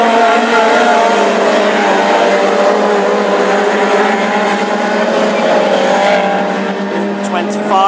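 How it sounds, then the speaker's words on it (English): Several Ford Escort Mark 2 hot rods race in a championship final at Tipperary, their engines forming a loud, steady drone that holds throughout, with a commentator talking over the noise. "Racing laps is a long way in hot rod racing, anything still can happen."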